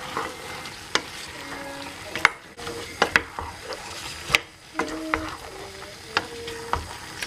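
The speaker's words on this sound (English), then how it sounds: "So after adding the fish, I'm going to go ahead to stir them." Fish is stirred into a seafood okra stew in a pot. A low simmering sizzle runs underneath, broken by repeated sharp knocks and scrapes of the utensil against the pot at irregular intervals.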